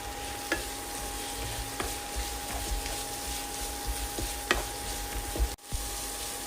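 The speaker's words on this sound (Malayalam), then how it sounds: "അതിലേക്ക് പച്ചമുളക് അരിഞ്ഞതും ക്യാരറ്റും ക്യാപ്സിക്കവും ചേർക്കാം" Chopped green chilli, carrot and capsicum stir-frying with ginger and garlic in a pan, a soft steady sizzle punctuated by periodic spatula knocks and scrapes, with a brief pause near the end.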